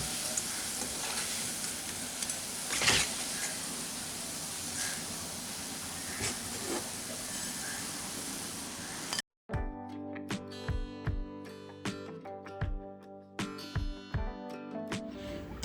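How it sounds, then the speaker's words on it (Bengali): Raw banana pakoras fry in oil with a steady, close hissing sizzle for about nine seconds. It then cuts off, giving way to scattered metallic clinks and scrapes of utensils against the pan. "এখন আমি এই পকোড়াগুলোকে উল্টিয়ে দিচ্ছি। এই পকোড়াগুলো আমাদের ভাজা হয়ে গেছে।"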